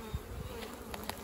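Steady buzzing of many honeybees in an opened hive, a dense close hum filling the short clip with no talking.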